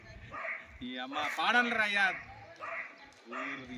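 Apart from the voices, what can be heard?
dog barking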